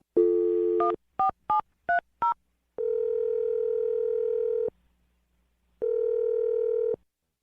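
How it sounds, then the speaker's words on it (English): A telephone dials a number: five quick keypad tones in a row, followed by two long, steady ringback tones separated by a pause, loud and clear with no talking. "I'm going to dial his phone number right now"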